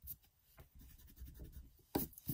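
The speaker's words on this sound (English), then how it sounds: "I don't know what these smudges are. Let me see if I can erase them." Eraser rubbing over planner paper to lift smudges, a few short soft scrubbing strokes close by with quiet pauses between them, ending in a brisker burst of rubbing.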